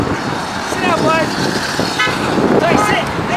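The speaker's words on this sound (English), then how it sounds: "Honk the horn, baby. Honk the horn." A car horn toots in short repeated bursts amid road traffic, with people talking loudly over and between the honks.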